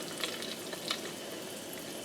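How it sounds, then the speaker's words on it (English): Chicken cutlets frying in hot oil in a pan, a quiet steady crackling sizzle with small pops, heard alone and faint. "I can smell the oil, so hopefully it's hot enough. And so we'll see if we hear a sizzle."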